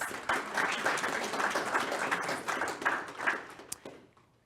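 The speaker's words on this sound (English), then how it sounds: "give him a round of applause" Audience applause at a Toastmasters club open house, greeting a certificate of appreciation award, a steady patter of clapping from a room of people that thins out and stops near the end.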